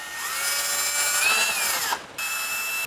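A power tool whirs steadily as it backs bolts out of a bicycle hub, with a brief pause before the motor picks up again, close and fairly loud with no talking.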